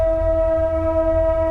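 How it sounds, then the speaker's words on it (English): A train in a city sounding its horn, a loud sustained steady tone over heavy low rumble, continuous throughout with no talk. "And there's the train."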